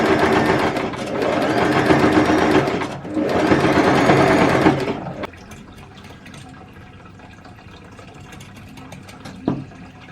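A sewing machine stitches fabric for a handmade snowman doll in two loud, steady runs of a few seconds each, then stops, leaving a quiet room with a single brief knock near the end.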